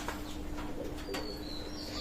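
Soft, low cooing of Pakistani Teddy pigeons nearby, repeated throughout over a faint steady background hum, with a few brief chirps.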